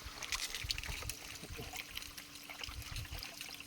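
A drip venturi injector draws organic manure solution into an irrigation line at an oil palm plantation, giving a faint, continuous gurgling hiss over a low rumble.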